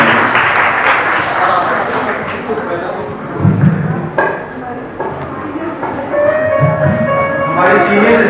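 Audience applause for nurses at a Nursing Day ceremony, a dense continuous clapping wash filling the whole stretch, with a voice speaking over it at times.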